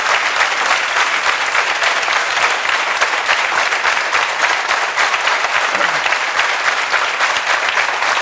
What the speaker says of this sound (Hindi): एक बार दोबारा ताली बजाओ इसके लिए।